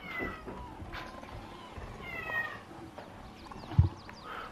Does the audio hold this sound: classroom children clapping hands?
no